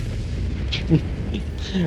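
Cannon fire from a DBV-152 tank destroyer in the video game World of Tanks: a muffled boom with short bursts under an ongoing voice commentary.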